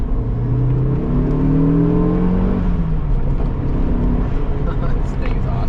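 A 1999 Saab 9-3 Viggen engine drones and revs steadily, rising and falling in pitch over a continuous loud road rumble, with someone talking over it.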